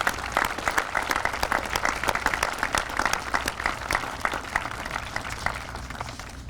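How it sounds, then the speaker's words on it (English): Audience applause at a Veterans Day ceremony in Indianapolis, a steady wash of many hands clapping that holds evenly throughout, moderately loud with no voices over it. "Let's give everybody a round of applause for being here."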